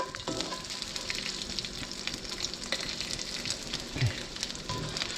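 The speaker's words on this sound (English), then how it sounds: "take these kielbasas, dump it right on in here" Kielbasa sausage going into a pot of sizzling turkey chili, a soft steady frying hiss with scattered stirring scrapes and one low thump, fairly quiet and close with no voices.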